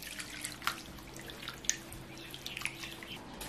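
Water splashing and dripping while chicken pieces are rinsed clean in a basin, with scattered small drips and splashes over a low steady background hum.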